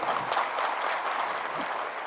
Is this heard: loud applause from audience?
yes